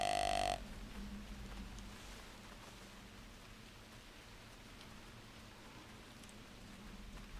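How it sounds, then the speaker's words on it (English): Steady, soft rain hisses through the woods in the hunting game theHunter Classic after a brief tone at the start, constant and even throughout with no voices. "Because the rain's a bit louder."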